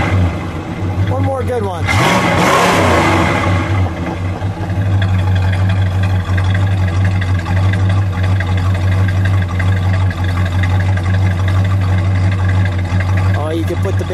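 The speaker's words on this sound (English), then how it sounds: "Go ahead, give it a rev." A 1970 Dodge Coronet R/T convertible with a 440 engine idles with a deep, steady rumble, then blips into a loud rev around the second mark before settling back to a throbbing idle; someone speaks briefly over it.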